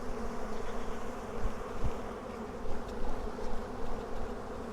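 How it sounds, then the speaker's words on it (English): A dense, steady drone of many honey bees from a package buzzing close by, swelling and dipping slightly in loudness throughout. "And there are lots and lots of bees in here."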